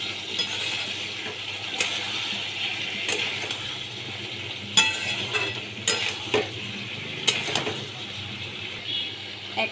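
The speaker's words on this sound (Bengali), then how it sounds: "এবার এর মধ্যে সেদ্ধ করা কাবলি ছোলাগুলো আমি দিয়ে দিচ্ছি। সবগুলোকে একসাথে কষিয়ে নিতে হবে।" Boiled kabuli chickpeas tip into a pan and are sautéed, with clinking spoon knocks against the metal and scraping stirs spaced irregularly over a low sizzle, close and fairly loud, no speech.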